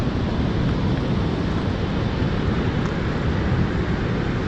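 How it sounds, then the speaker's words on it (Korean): Bow Falls in Banff pours a heavy volume of river water over a drop of about ten metres, making a loud, steady, broadband roar that stays constant throughout without any talking. "감싸고 돌아온 물이 바로 그 앞에서 저렇게 폭포가 되어 쏟아지는 거죠"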